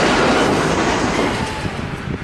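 Rail yard with a freight train being loaded for the Burlington and Santa Fe, giving a dense, steady rumble of rolling railcars with faint clickety-clack, close and loud throughout without speech.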